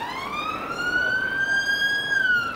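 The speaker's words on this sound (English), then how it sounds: "Police car just pulled out in front of us." A police car siren wailing in central London, a loud, close, steady rising tone sustained throughout with road traffic rumbling underneath.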